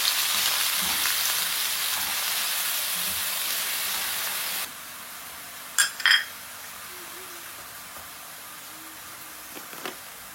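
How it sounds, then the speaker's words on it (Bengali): Blended onion frying in hot oil with ginger garlic paste hisses steadily, loud sizzle for the first few seconds, then quieter crackling with a couple of sharp utensil clinks near the middle. "রসুনের কালার যে সময় তোরা চেঞ্জ হয়ে গেছে গিয়ে বাদে এখানে আমি পেঁয়াজ দিলাইছি ব্লাইন্ডার করা।"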